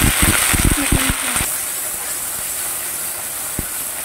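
Cardamom, clove and cinnamon sizzle loudly as a tempering in hot oil, giving a bright, steady hiss with a burst of crackling pops at first that settles into an even sizzle, with one sharp tick near the end.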